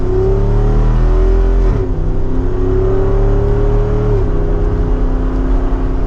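A 2024 Jeep Wrangler Rubicon 392's big engine roars loudly and steadily as it accelerates in second gear, with a deep rumbling tone that briefly dips at a shift, then climbs again.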